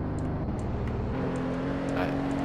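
A muscle car engine in a Roblox driving game gives off a steady, faint, thin synthetic hum with slight revving, heard alone.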